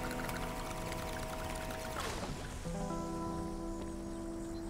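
Fresh water pours in the Crime Scene Cleaner video game, a steady gurgling splash with tonal ringing that shifts pitch partway through as the flow changes, alone and close.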